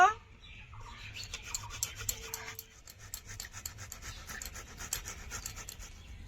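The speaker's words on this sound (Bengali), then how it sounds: "টমেটোটা গ্রেট করে নেব" A tomato is grated by hand for a paneer masala recipe. Quick, rhythmic, soft scraping strokes repeat steadily at close range and fairly quietly, with light breathy noise around them.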